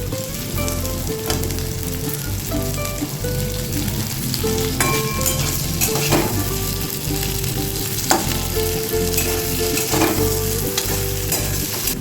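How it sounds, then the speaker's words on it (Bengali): Boiled potatoes fry in a pan until reddish, a dense, continuous close-up sizzle with frequent spatters and occasional stirring scrapes, no talking. "আলুটা একটু লাল লাল করে ভাজবো।"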